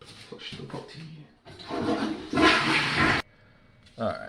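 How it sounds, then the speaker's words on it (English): A toilet flushes in a home bathroom, rising into a loud rushing swirl that holds for a couple of seconds and then cuts off, with a brief clatter before and after. "Flush the potty."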